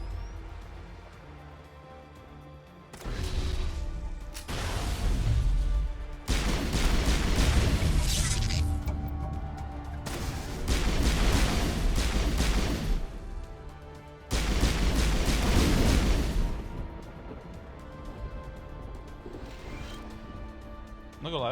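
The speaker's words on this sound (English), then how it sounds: "Look at that explosion completely rocked out my armor." Heavy explosions and gunfire from the Mass Effect video game boom in repeated loud bursts over several seconds, with rumbling between blasts and game voices mixed in beneath the din.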